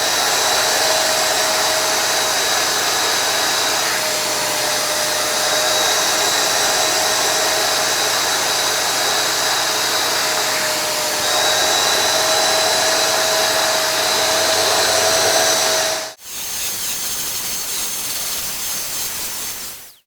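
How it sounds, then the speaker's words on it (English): A steam spot cleaner, either a UWANT Y100 or a BISSELL HydroSteam carpet cleaner, runs in hot water mode with a steady loud hiss and whine that cuts off sharply, then resumes briefly until the end. No one speaks. "we're also gonna turn this on and let it warm up for about the same amount of time."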